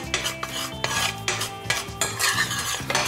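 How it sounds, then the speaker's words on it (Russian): A utensil scrapes and stirs flour quickly in a frying pan, making close, rhythmic metallic rasping and clinking in repeated strokes. "мы должны интенсивно помешивать муку"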